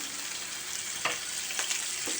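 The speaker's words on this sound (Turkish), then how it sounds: "Bir miktar da sıvı yağ koydum, kavuruyorum." Peppers sizzle steadily in oil in a pan, a close, constant frying hiss with a few soft pops and stirring scrapes.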